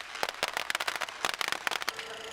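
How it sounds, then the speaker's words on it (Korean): Firecrackers pop in rapid irregular volleys outside a building at a Sichuan earthquake rescue site, sharp crackling bursts close by for a couple of seconds before a faint tone lingers. "건물 밖에서 이별의 폭죽이 터집니다"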